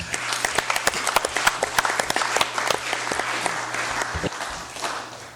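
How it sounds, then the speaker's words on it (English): A room of legislators and guests claps during a congressional regular session, a dense burst of many sharp hand claps, close and lively, thinning out toward the end over a steady low electrical hum. "Let's give them a round of applause."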